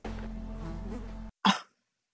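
Fly buzzing in a Game of Thrones scene, a steady close insect drone for over a second that cuts off abruptly, followed by a brief separate burst, with no talk.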